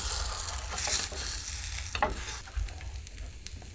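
Green onion skewers fry in a little oil in a pan, a close, continuous sizzle with occasional scraping and pressing sounds as the onions are moved and pressed down.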